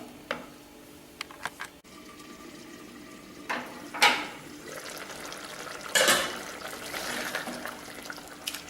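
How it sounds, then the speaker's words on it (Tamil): Thick capsicum gravy bubbles and spatters in a pan, with soft popping bursts rising over a quiet simmer. "ஒரு 5 நிமிஷம் கொதிக்கட்டும்."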